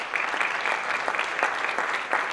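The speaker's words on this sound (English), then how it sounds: "students, give your parents a round of applause" Audience applause for parents at a Strongsville High School top 5% student recognition event, steady dense clapping that fills the room throughout.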